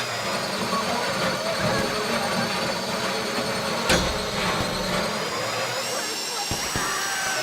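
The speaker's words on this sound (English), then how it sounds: "If the drill burns out, this whole thing will take too long." A power drill bores into a bank vault during a heist in GTA 5, a loud steady whine and grinding drone that holds throughout, with a brief sharp crack midway.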